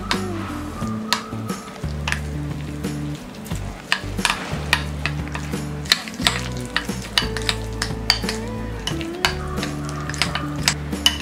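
Garlic butter mixed with herbs and chilli flakes is stirred in a bowl as stuffing, with steady scraping and clinking strokes under continuous background music, no talking.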